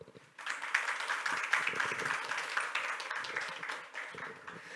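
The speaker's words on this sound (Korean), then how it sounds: "박수로 맞이해 주세요" A seminar audience at a fintech business talk claps to welcome a speaker to the stage, dense applause that starts abruptly and continues steadily for several seconds, with faint murmuring underneath.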